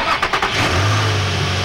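A used car's engine starting at a push-button ignition: a few quick cranking bursts, then the motor catching into a steady, loud, close idle hum.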